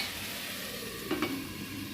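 Potatoes fry in a covered pan over a low gas flame, giving a faint, steady sizzle. A short clatter of stirring breaks in near the middle.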